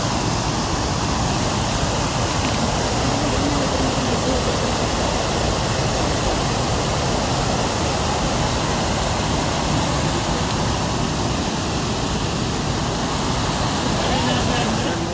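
Loud, steady roar of a waterfall fills the whole stretch, a dense broadband rush of crashing water with no breaks, very close.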